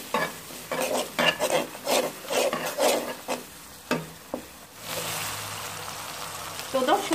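Spices with turmeric powder are stir-fried in oil for a bata fish curry, a spoon scraping the pan in rhythmic strokes over a frying hiss, then a steadier sizzle takes over.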